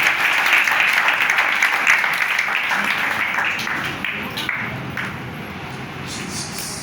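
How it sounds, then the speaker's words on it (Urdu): Loud, sustained applause from a church congregation fills the room, dense steady clapping that tapers slightly toward the end. "ایک دوسرے کے لیے زوردار تالیاں بجائیں"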